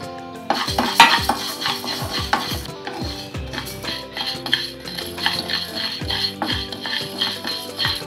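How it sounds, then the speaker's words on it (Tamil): Raw rice dry roasting and being stirred in a pan for a Pongal kootu curry, with repeated scraping and clinking of a spoon against the metal and a faint rustle of grains, close and steady with no talk. "பச்சரிசியை போட்டு வறுத்துக்கலாம்"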